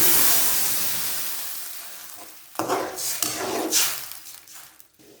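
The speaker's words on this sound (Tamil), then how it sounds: "நான் ஒரு டம்ளர் தண்ணி சேர்த்துக்கிறேன்." A hot pan of roasted sago pearls hisses loudly and fades as a tumbler of water is added, then bursts of sizzling and bubbling rise with scraping, close by.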